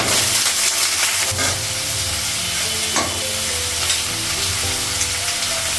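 Panch phoron, green chili, ginger paste and vegetable paste fry in oil in a pan, giving a loud, steady sizzle with occasional stirring scrapes throughout, and no talking.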